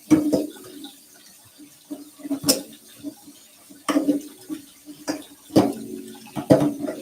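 Running tap water splashing into a rice cooker pot while it is washed in the sink, with intermittent gushes and scrapes of the pot, close and moderately loud.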